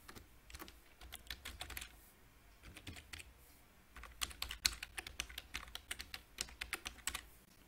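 Keys on a computer keyboard are tapped in quick irregular bursts while a username and password are entered, soft close clicks with short pauses between runs.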